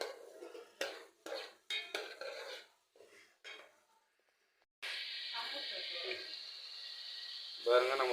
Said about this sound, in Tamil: நம்ம வதக்கிட்டு இருக்கோம்